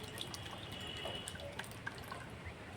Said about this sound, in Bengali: এবার যে তরমুজের জুসটা বার করা হয়েছে এটা আমি ঢেলে নিচ্ছি